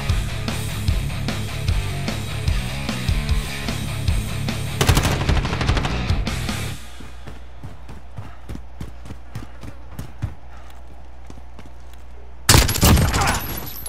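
P90 submachine gun firing in Call of Duty Modern Warfare: rapid automatic bursts, dense at first, then sparser single shots and footsteps, ending with a loud burst, close and sharp.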